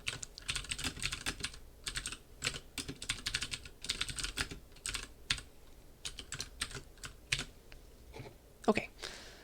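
Typing on a computer keyboard during a lecture: steady bursts of quick, close key clicks with brief pauses between runs, fairly quiet and with no talking over them.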